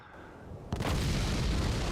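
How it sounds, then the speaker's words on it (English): An explosion goes off in the video game Monkey Island 2: LeChuck's Revenge Special Edition, a sudden loud boom after a quieter lead-in, followed by a sustained roaring rumble. "It's some explosion."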